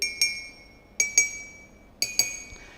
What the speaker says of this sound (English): We can also hammer them in a different way.